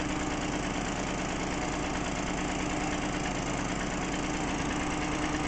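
A Solex 5000 moped engine, freshly started and warming up, idles steadily and close by with a continuous buzzing, knocking throb and no voices.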